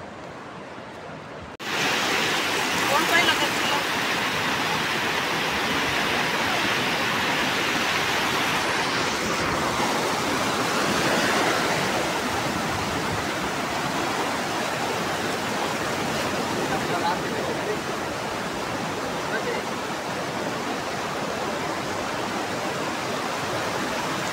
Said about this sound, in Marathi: आता आपण समुद्रात मस्त सकाळ सकाळी आलोय